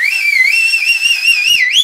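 A loud two-finger cheer whistle, one long, piercing note that warbles up and down in pitch for about two seconds with a final upward swoop, heard alone and close.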